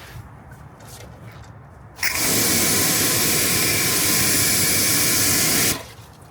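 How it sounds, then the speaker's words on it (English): Air blasts out of a wheel-washing brush during a wash of ceramic-coated car wheels, a loud, steady rushing hiss that starts abruptly and cuts off after about three and a half seconds, with no talk. "brush as I go along"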